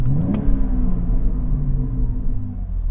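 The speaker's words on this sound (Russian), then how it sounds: "вот ты чуть-чуть подгазовал, отпустил, и ощущение, что у тебя там сзади какая-то кальянная" A BMW X4M F98 Competition's exhaust pops and burbles after a quick throttle blip, a loud low rumble with crackles and a falling engine note heard from inside the car.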